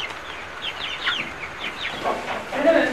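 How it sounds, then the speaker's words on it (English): A rooster on a farm clucks and calls in a few brief, moderately close bursts, with other fowl sounds and faint background noise. "That's the rooster."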